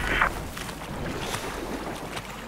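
A motorboat engine in Battlefield 4 drones steadily with a rushing wash of wind and water, continuous and fairly loud with no talking.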